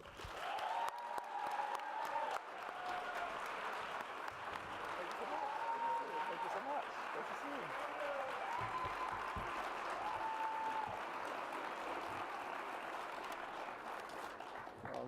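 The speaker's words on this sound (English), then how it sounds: "can we give another huge round of applause to Senator Wofford" An audience applauds at a public event as the U.S. Secretary of Education is welcomed to the stage, a loud, dense, unbroken clapping that runs for the whole stretch with a few voices calling out.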